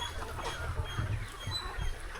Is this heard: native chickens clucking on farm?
yes